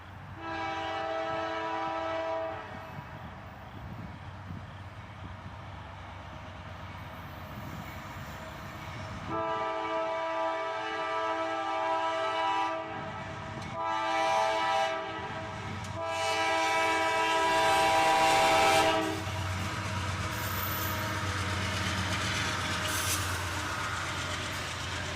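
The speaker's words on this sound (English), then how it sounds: "I heard a train horn in the distance." A freight train led by an ES40DC and an AC44CW locomotive sounds its horn from a distance, long sustained chords repeating as the train approaches, with a low rumble of rolling cars underneath.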